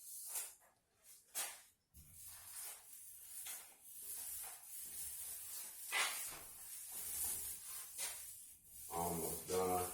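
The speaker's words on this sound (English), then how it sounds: "I am applying the sealing that you use to seal the bathroom drywall." Bathroom drywall being coated with sealer by spray, heard as repeated soft hissing bursts of varying length, faint and close, with brief pauses between passes and a short voiced sound near the end.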